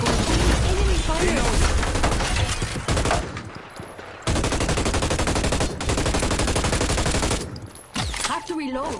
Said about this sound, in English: There's a fight going on. Enemy fire.